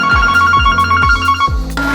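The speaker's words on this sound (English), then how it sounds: "That was an interesting phone call." A phone rings loudly and close by in a workshop during a car wrap job, four repeated electronic ringtone bursts with a regular rhythm and no talking.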